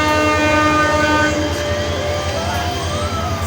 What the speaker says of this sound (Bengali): সবাই সাইড দাও, ট্রেন আসতেছে